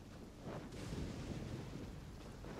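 Video game storm thunder rolls in a long, low, rumbling peal mixed with rain hiss, fairly faint and continuous with no voices over it.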